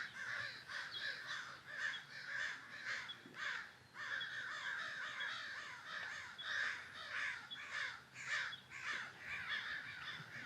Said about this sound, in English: that's a murder of crows